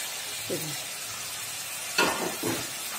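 A fish head goes into a hot pan for muri ghonto and sizzles with a steady, moderately loud hiss, with brief voices and a few short clatters partway through.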